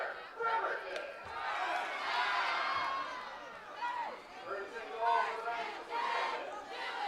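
A high school football crowd cheers and shouts in swelling waves at a game between Olympic and Bremerton, a loud, mixed roar of many voices.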